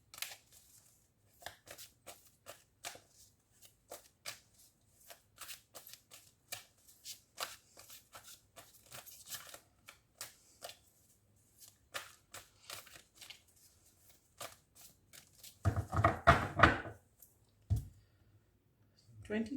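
A Good Tarot deck is shuffled by hand, producing a long run of quiet, crisp card clicks and flicks, close and faint, ending in a denser burst of riffling.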